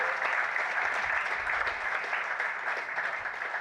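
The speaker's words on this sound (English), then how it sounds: "another round of applause for all of our awardees this afternoon" Steady audience applause for awardees at a national agriculture and fisheries awards ceremony, a dense, even wash of many hands clapping at moderate volume throughout, with no talking.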